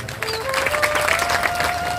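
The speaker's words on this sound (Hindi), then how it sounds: "तालियां बजाना पड़ा।" An audience claps in a continuous, dense wash of applause at a speech honoring Savitribai Phule and Ambedkar, with a sustained tone running through it.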